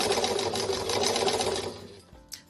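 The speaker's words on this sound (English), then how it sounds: "now I'm just going to sew forward," A domestic sewing machine stitches forward through fabric, running in a fast steady buzz for about two seconds. It then slows and stops, followed by a small click.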